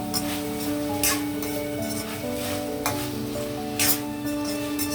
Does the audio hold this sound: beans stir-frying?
yes